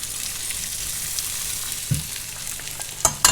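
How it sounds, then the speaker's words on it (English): Mince for moussaka sizzles steadily in a pan while being stirred back in, with occasional spatula scrapes and a few sharper knocks near the end; no voices. "I'm just going to add the mince back into the pan. And I'm going to mix that in."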